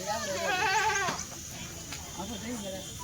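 Kathiawadi goats bleat loudly nearby, a wavering cry followed by softer bleats, with a voice speaking alongside in the background.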